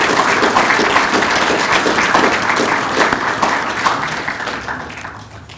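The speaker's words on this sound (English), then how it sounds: "if we could have a round of applause for the sponsors" Audience at the 2012 Thomas S. Green Public Service Awards ceremony applauds the event sponsors, a dense, steady round of clapping from a seated crowd that holds for several seconds and then tapers off toward the end.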